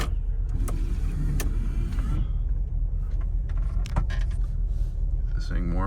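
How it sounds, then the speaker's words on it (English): An old Volkswagen Vanagon engine runs steadily just after starting, a loud, constant idle close by with a few sharp clicks and knocks over it. "old Vanagon fires right up."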